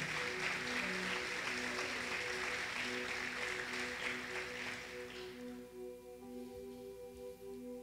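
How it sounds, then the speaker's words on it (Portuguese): Church congregation applauding, a dense wash of clapping for about five seconds that then fades out, leaving sustained organ or keyboard chords playing on alone. "Você pode aplaudir o Senhor?"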